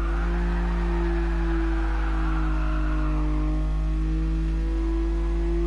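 Gran Turismo Sport video game car engine holding a steady drone with strong tonal harmonics, a smooth continuous hum with slight pitch shifts, loud and alone without talk.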